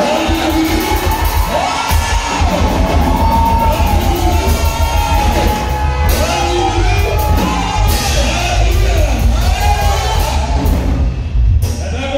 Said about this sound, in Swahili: I want you to make a shout of joy.